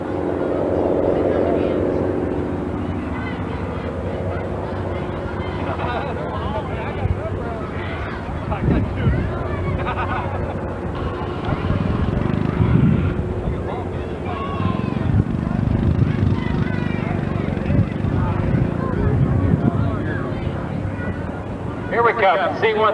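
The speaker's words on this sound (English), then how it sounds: "Here we come, C-130 out of the West Virginia Air National Guard, Charleston." A Lockheed C-130H transport of the West Virginia Air National Guard flying past at a 1995 airshow, a broad low turboprop drone mixed with wind buffeting, while a voice talks over it throughout.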